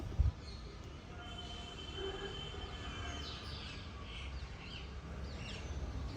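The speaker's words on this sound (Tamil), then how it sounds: "ஒரு அழகான காலை பொழுது பறவைகளின் சத்தத்தோடு" Faint morning bird chirps ring out over a low, steady rumble at Tortoise Hall, Tirukalukundram, growing a little livelier toward the end.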